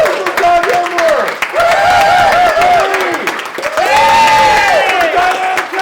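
Improv comedy show audience applauds and cheers loudly and steadily throughout, a host's voice calling out over the crowd noise.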